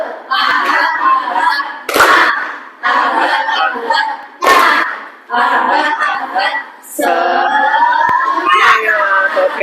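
A group of participants performs the tepuk semangat clap chant, shouting a spirited call in unison and punctuating it with sharp, loud, rhythmic bursts of clapping, the phrases repeated several times in quick succession.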